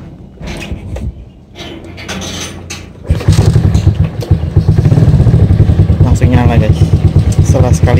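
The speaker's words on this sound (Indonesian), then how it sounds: "Yang oke dari motor ini adalah disela sekali langsung nyala." A 1996 Suzuki Shogun 110 motorcycle, freshly restored, starts on the first try. Short cranking is followed by a loud, steady near idle, with people talking over it.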